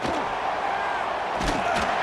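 Stadium crowd roaring in the College Football 26 video game during an Oregon versus Notre Dame matchup, a dense, loud, sustained wall of cheering with a few louder swells and no clear talk.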